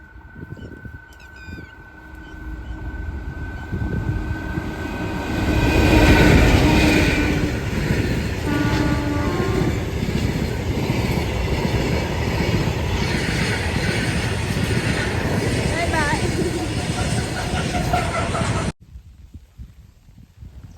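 A train rumbles past close by, wheels clattering steadily on the rails with occasional squeals, loud throughout before cutting off near the end.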